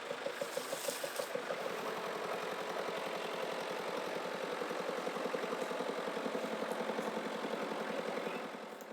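A diesel excavator engine idles steadily at a property cleanup in Costa Rica, a loud continuous rumble with a regular low knock that holds for the whole stretch and eases slightly at the end, no voices.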